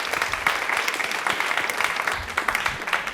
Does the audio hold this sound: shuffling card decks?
no